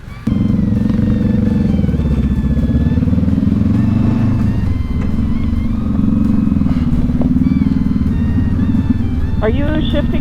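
Adventure motorcycles, among them a CB500X and a KTM 390 Adventure, rumble steadily on a ride through snow and single track, the engine drone wavering with throttle changes while riders talk over it.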